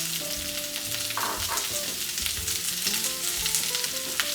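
Onions for Parsi dhansak fry and caramelize in a hot pan, a continuous close sizzle with occasional stirring scrapes and a few faint tonal clinks throughout.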